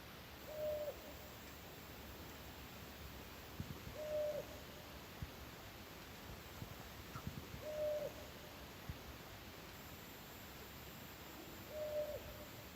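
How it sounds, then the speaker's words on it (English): Faint owl hoots repeat at steady intervals, about every three and a half seconds, over a quiet hissing night background in a forest campsite. "There's a couple owls that have been around this area. Pretty cool to listen to."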